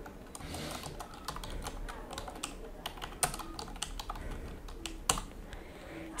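A computer keyboard is typed on in quick irregular bursts of light key clicks while a page name is entered, close and fairly quiet, ending in a louder knock.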